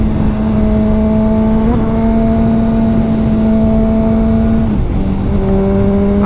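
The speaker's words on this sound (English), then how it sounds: "That exhaust note really opens up at these higher RPMs." A 2005 Honda CBR 600 RR runs at high RPM, its exhaust a loud, steady, buzzing howl that holds pitch and then dips briefly as it shifts before climbing again.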